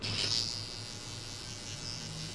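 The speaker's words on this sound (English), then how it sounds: "we're gonna use the trimmer to remove this guideline between the super zero and the zero" An electric hair trimmer cutting hair during a skin fade haircut, a faint, steady high buzz running throughout with a slightly stronger burst at the start.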